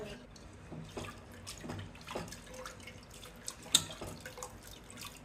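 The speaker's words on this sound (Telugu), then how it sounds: "ఈ వాటర్లో వేసేసి ఫస్ట్ కడుక్కోవాలి నీట్గా" Garlic and curry leaves are washed in a vessel of water, with soft splashing, sloshing and dripping close by, broken by a few sharper splashes.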